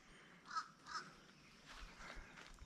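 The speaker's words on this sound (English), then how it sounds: "The birds are definitely talking, and they don't forget a face." A few crow-like caws call out, two clear ones near the start followed by softer, scattered calls further off, with no voices.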